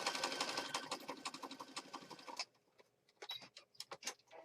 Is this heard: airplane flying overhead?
no